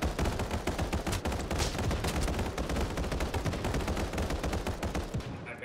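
Rapid automatic gunfire in the game Final Fantasy VII The First Soldier hammers continuously at close range, loud dense shots overlapping into a sustained rattle throughout.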